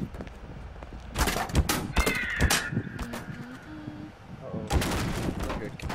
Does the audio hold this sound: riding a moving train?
no